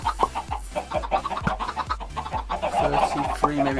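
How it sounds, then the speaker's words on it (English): Minecraft chickens cluck over and over from an automatic chicken farm holding around 33 or 34 birds, with short repeated calls overlapping in a steady, busy chorus. "33, maybe 34 chickens up top, producing a large supply of chicken"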